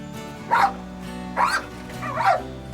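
A search and rescue dog barks three times at an outdoor graduation event, loud and close, with short gaps between the barks.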